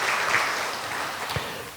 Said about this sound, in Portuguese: Vamos dar uma salva de palmas para Deus